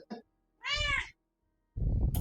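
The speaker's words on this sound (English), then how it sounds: "Cat agrees with me." A cat meows once in a single clear, fairly close call between short bursts of background noise and a brief voice.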